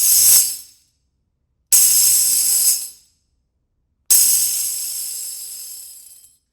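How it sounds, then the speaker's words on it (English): A tambourine with beeswax on its head gives three finger rolls, each a buzzing rush of jingles that starts abruptly and fades, the last one longest, with silence between them. "This is created by moving your finger across the surface of the tambourine head"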